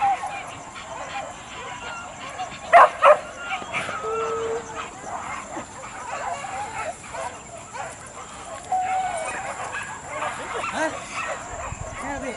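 A dog yips, barks and whimpers amid an outdoor street performance crowd, with a few sharp cries standing out briefly over a busy, moderately quiet background.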